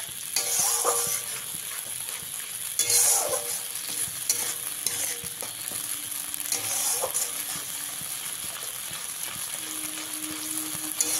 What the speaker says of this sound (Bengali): মশলাগুলোকে খুব ভালো করে কষিয়ে নিতে হবে।